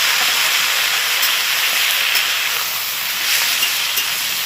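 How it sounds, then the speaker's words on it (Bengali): Tomato added to a pan of fried onion, garlic and green chillies, a loud continuous hissing sizzle that holds steady throughout with no voices. "এবার দিয়ে দিচ্ছি টমেটো।"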